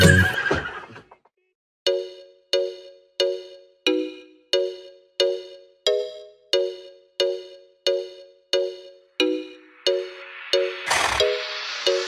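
A horse whinnies in a Hindi children's rhyme. Crisp, evenly spaced tonal clip-clop beats repeat in a steady rhythm between a neigh near the start and a louder burst near the end.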